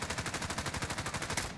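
Full-auto fire from akimbo Sykov pistols with 80-round magazines in the video game Warzone: a fast, even stream of about twenty sharp shots in under two seconds, moderately loud and alone.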